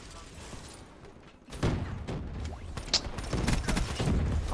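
Rapid bursts of Call of Duty gunfire, dense, fast-repeating shots that grow louder partway through and continue steadily to the end, with no talking over them.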